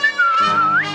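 A person whistles a single sustained tone that dips slightly and then slides upward at the end, close and clear, with no talking.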